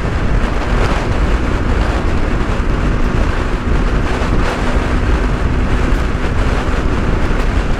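Riding a Bajaj Pulsar 150 motorcycle at about 90 km/h gives loud, constant wind roar buffeting the microphone, with engine drone buried beneath the rushing air.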